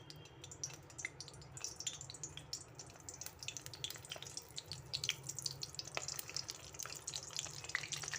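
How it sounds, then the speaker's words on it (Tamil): Stuffed brinjals frying in hot oil, a soft steady sizzle with fine crackles and spits throughout, fairly faint and continuous with no talking. "எண்ணெய் சூடாயிருச்சு எண்ணெயில் பொறிச்சு எடுத்துடலாம்"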